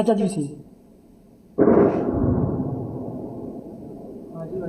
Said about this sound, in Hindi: और धमाके की आवाज आप सुन सकते हैं